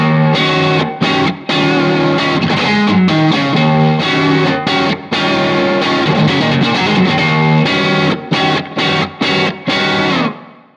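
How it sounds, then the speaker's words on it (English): A Stratocaster's single-coil neck pickup with light overdrive into an otherwise clean amp plays a lively melodic passage with chords and single notes, warm and round, ending in a few choppy strummed hits. "the neck pickup, single coil, little bit of overdrive into a otherwise clean amp"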